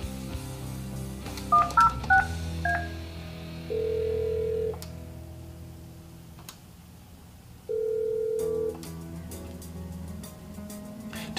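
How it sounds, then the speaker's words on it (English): Keypad tones from an italk T29 IP phone as an extension number is dialed, a quick cluster of short beeps followed by two longer steady tones separated by a quiet gap, close and clear with no talking. "To make intercom calls, dial the extension number and press send, or simply press the DSS key."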